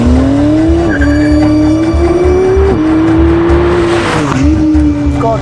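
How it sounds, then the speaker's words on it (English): A 720hp Novitec McLaren Artura with sport cats and a race rear muffler roars loudly under hard acceleration, its engine note climbing in pulls broken by quick upshifts, with some tyre noise in the mix. "the sweet spot of this is that Novitec exhaust system"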